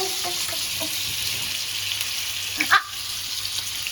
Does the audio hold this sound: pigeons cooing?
no